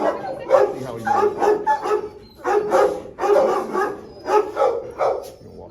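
Dogs bark in a shelter ward, with repeated overlapping barks and yips coming in bursts at close range while people talk quietly nearby.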